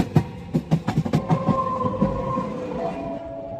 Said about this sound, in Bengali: শ্যাওড়াফুলি ট্রেন ঢুকছে, আর এই মুহূর্তে এখানে চলে এসছে ব্যান্ডেল হাওড়া লোকাল।